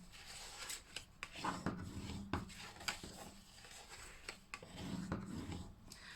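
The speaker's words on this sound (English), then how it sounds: "I'm just going to burnish all these lines" A burnishing tool rubs along score lines on paper for a papercraft Christmas favor exploding box, making soft, quiet scraping strokes in irregular bursts with no voices.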